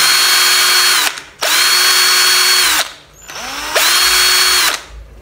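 A cordless 18V drill test-run in three close, loud whirring bursts, spinning up and winding down between them, the third run starting with a brief rising surge.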